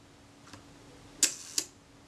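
A few sharp mechanical clicks from a Kodak Retina IIc camera shutter being cocked and fired in a quiet room, one faint then two louder snaps close together; the shutter speeds are inconsistent.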